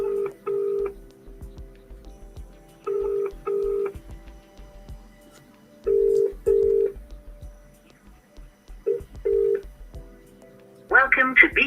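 A telephone call dialed and ringing through to BT voicemail: repeated pairs of ring tones separated by pauses, with faint clicks and background noise between them and a burst of louder sound at the very end.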